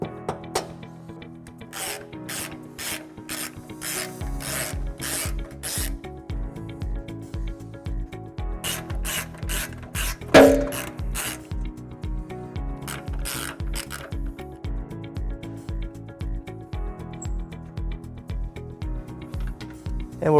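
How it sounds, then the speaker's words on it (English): A flathead screwdriver scrapes old glue off bolt threads during a trailer hitch install on a 2016 Tesla Model S. The result is a close, repetitive ratcheting scrape in quick rhythmic strokes, steady throughout, with one sharper scrape near the middle and no talking. "we're just going to have to scrape it off with a flathead screwdriver"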